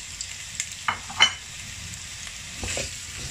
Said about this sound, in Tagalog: Pagkatapos i-fry itong hiniwang potato at saka carrots.